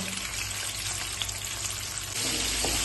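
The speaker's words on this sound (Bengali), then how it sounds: "তেল হালকা গরম হয়ে আসলে টমেটোগুলো ভেজে নেব।" Tomatoes fry in lightly heated oil with a soft, steady sizzle that grows a little louder near the end, close by and without any talking.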